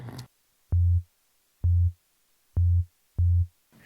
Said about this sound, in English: So we're just listening to our frequency generator